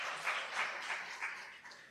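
A church congregation gives a short round of applause during a Wednesday worship service, soft and somewhat distant, with a few faint rhythmic swells of clapping fading out within two seconds.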